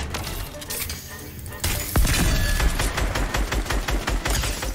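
Rapid automatic gunfire in a battle royale shooter game, a dense run of loud, evenly spaced shots with a clattering burst partway through, heard over continuous game noise.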